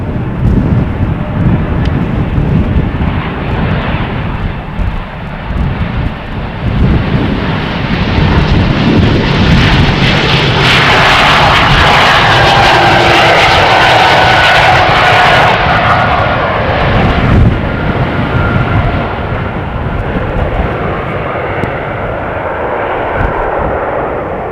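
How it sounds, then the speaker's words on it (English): Embraer E2 jet taking off from runway 36L at Amsterdam Schiphol, a loud, sustained engine roar that swells and holds steady throughout, with some wind buffeting the microphone and no talking. "Embraer."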